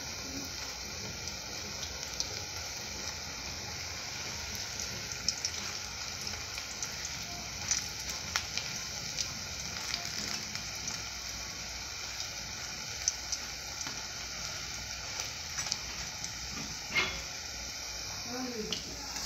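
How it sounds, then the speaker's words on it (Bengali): Cabbage pakoras fry in hot oil, a continuous soft sizzle and crackle with scattered small pops, heard close but at low volume for nearly twenty seconds. "এইভাবে ভেজে নেব সব।"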